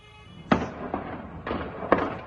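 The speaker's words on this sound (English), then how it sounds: "Gunfire could be heard echoing across the town of Sderot" Four sharp gunshot bangs ring out at uneven intervals across the town of Sderot, Israel, during a Hamas attack, each trailing off in a brief echo against a low background rumble.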